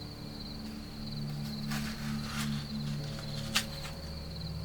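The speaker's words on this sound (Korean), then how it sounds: "귀를 기울이면 낮에는 성가시게 울어대던 매미 소리 대신에 풀벌레 소리가 섞여 있다" Faint, steady trilling of grass insects at night in midsummer hangs in the background alongside a low hum, with one brief click partway through.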